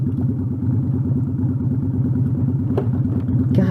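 A motorcycle engine running steadily at low speed in second gear, with a loud, even, throbbing pulse and a faint clatter near the end.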